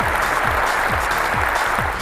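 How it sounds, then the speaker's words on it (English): A large audience at Sony's E3 2005 stage show applauds and cheers, a loud, dense wash of clapping that holds steady across the whole moment. "and the crowd goes wild."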